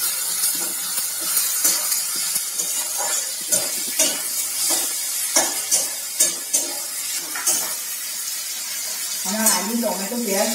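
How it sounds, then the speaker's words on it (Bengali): Potatoes, onion and chopped tomato fry in a pan with a soft sizzle under repeated scraping and tapping of a spoon as they are stirred. A voice briefly appears near the end. "টমেটোটাও একসাথে খুব ভালো করে ভেজে নেবো"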